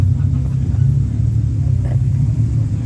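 A Chevy Impala muscle car rumbles steadily at close range during an Australia Day street parade in Hastings, a deep continuous engine drone with a slight rise in revs, with faint voices around.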